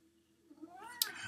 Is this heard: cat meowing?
yes